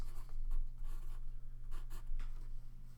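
Marker strokes on a board during a math lesson: a series of faint, scratchy writing strokes in quick, irregular bursts, close by, with no talking.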